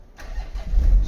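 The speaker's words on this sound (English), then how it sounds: "starts the vehicle" A 2013 Porsche Panamera engine starts after a programmed spare key is inserted, a brief crank catching into a loud, deep rumble, close and with no voices.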